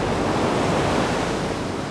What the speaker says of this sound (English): Most of the class have never seen waves this big.